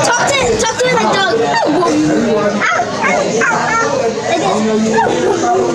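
A puppy yips and barks repeatedly at close range, with excited little whimpers mixed in, under steady overlapping chatter from people talking nearby on a day out.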